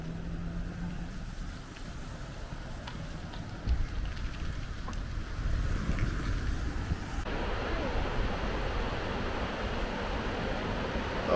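A waterfall beside the E16 road in Norway pours with a steady, broadband rush of water that swells louder and fuller through the second half.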